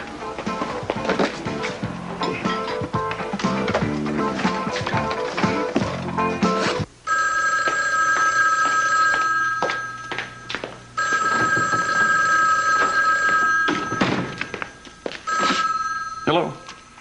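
A telephone rings with repeated electronic trills in the middle of an outgoing call, preceded by layered music and clatter, loud and close.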